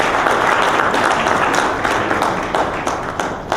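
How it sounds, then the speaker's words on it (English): An audience at a business dinner during a diaspora engagement conference breaks into sustained applause, dense clapping filling the room and slowly tapering off. "Another round of applause, Nigel."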